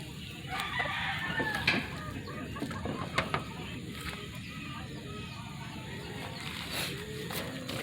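Chickens clucking and crowing nearby, scattered calls over a steady low background hum.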